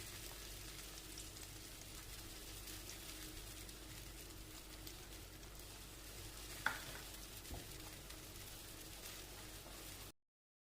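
A spoon stirs a khoya mixture in a pan while it cooks, giving a steady low scraping and soft sizzle with a couple of brief louder clinks, all fairly quiet and continuous.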